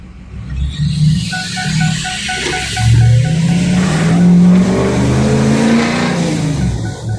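Pickup truck revving hard and accelerating with tires squealing, a loud, sustained engine roar that rises in pitch, close by with no talk.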